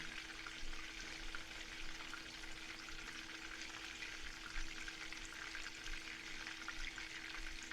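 Beef chapli kabab patties fry steadily in a pan over medium heat, giving a soft, continuous sizzle with a faint hum beneath and no speech.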